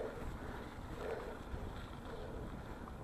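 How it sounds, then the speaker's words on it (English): Steady, strong winter wind buffets the microphone with low rumbling gusts that never let up during a mountain bike trail ride. "It's very windy."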